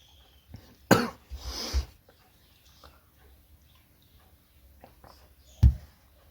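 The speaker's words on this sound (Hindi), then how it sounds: "सॉरी खांसी आ गई।" A man coughs in a quiet room, a sharp close burst followed by a few rough hacks, then a single loud cough again a few seconds later after near silence.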